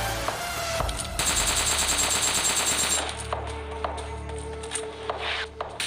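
Automatic gunfire from the mobile shooter PUBG Mobile Lite, with rapid bursts of shots in quick succession, loud and dense at first and then sparser, with no talk.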